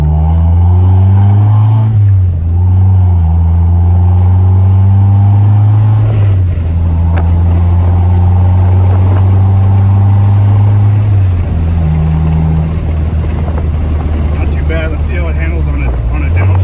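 A Nissan 240SX engine revs loudly from inside the car on a test drive. The drone rises through the gears, drops at each shift and climbs again, with a voice heard over it.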